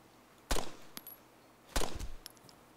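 Two loud gunshots in the video game DayZ, about a second apart, each followed by a brief rattling tail and a few smaller clicks, with no voices.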